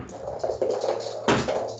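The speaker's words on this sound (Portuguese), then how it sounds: "É o cachorro que tá querendo brincar no meu pé." A dog wanting to play paws and fusses at someone's feet indoors, with soft whimpers and light scratchy taps in short uneven bursts, close by and fairly quiet.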